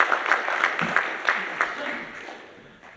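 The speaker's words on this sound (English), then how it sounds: "round of applause" Audience applause at a start-up showcase summit, a round of clapping with distinct strong claps standing out early, a brief cheer or voice mixed in, gradually fading away over a few seconds.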